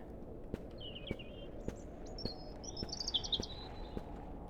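A bird in a video game chirps in quick high trills, moderately near, over a steady ambient bed with regular soft footstep thuds about twice a second.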